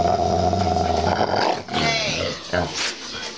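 Dogs growl and snarl roughly up close while people talk over the noise.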